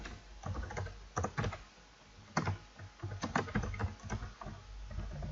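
Typing C++ code on a computer keyboard, irregular bursts of close, crisp keystrokes separated by short pauses, with no talk.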